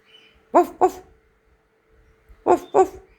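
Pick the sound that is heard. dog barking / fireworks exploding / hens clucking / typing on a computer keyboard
dog barking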